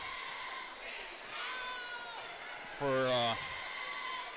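Crowd at a girls' varsity high school basketball game, a steady indoor murmur of spectators with a brief louder burst of voices, heard under a commentator talking.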